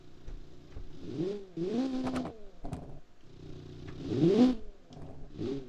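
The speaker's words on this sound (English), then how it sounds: "the car does sound amazing" A car engine in the video game Automation revs up and down several times in rising and falling sweeps, with a purring tone between bursts.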